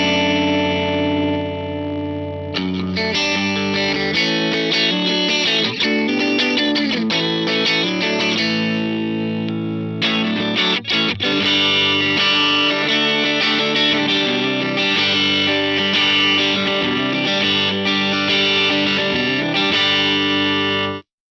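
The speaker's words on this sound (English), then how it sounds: "That compressor's really kind of pumping, so I'll turn the threshold up a bit more." An electric guitar plays sustained, distorted chords and notes through a compressor, with a steady, compressed loudness that swells and pumps, loud and continuous throughout.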